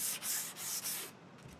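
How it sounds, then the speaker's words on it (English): Sandpaper rubs in quick back-and-forth strokes over a wooden quilt-style panel, softening the edges of its mahogany border; the scratchy hiss comes in three or four close, steady passes, then fades. "a final sanding all around, which includes softening the edges of the mahogany border"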